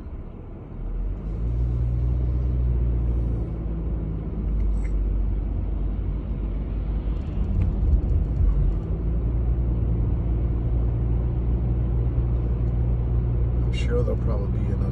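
Car driving along Stony Brook Road in heavy traffic, a steady low interior rumble of engine and tyres with faint passing vehicles and brief higher clicks.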